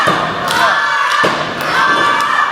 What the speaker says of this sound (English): the noise is deafening here as fans are just trying to get Karl up and shake the cobwebs out